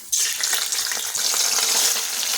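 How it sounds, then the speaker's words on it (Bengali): Small rohu fish dropped into hot oil left from frying cauliflower, a sudden loud sizzle that flares again midway and crackles steadily, with no talking. "ওই তেলে ছেড়ে দিচ্ছি মাছ"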